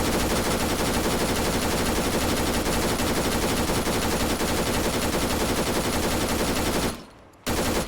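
Sustained machine gun fire from a bipod-mounted automatic rifle in a military shooter game pounds out as a dense, loud, unbroken burst, briefly cutting out near the end before resuming.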